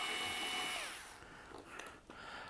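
Cordless screwdriver backing screws out of a Behringer Model D synthesizer case, a loud whining motor that drops in pitch and fades, followed by faint handling clicks.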